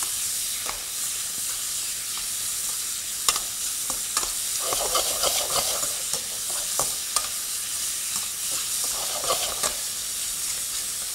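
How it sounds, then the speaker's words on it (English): Beef sizzles and crackles steadily in a hot pan with sesame oil, with scraping stir-fry strokes and bursts of spitting fat throughout. "And I'm just quickly stir frying that around."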